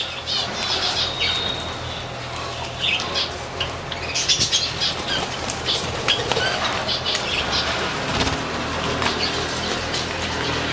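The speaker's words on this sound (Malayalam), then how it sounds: "ആഫ്രിക്കൻ ലവ് ബേർഡ്സ് ഉണ്ട്." African lovebirds and cockatiels in an aviary flap their wings in busy, fluttering bursts, with constant chirps and squawks close by.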